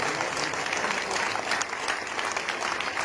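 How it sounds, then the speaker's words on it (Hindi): Crowd at a student awards ceremony giving loud, sustained applause, thick continuous clapping from many hands filling the hall with no break. "तालियां बदली होनी चाहिए, जोर से तालियां।"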